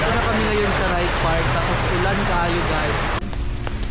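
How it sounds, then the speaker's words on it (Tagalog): Heavy rain falls at Wright Park in Baguio, a loud steady patter on surfaces under people talking, then it cuts to a quieter background near the end. "ulan ka diri sa Wright Park"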